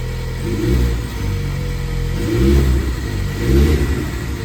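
A Ford Bronco engine with a high-mount intercooler runs steadily, then revs up in a few rising surges that swell and fall back, heard close with no talking.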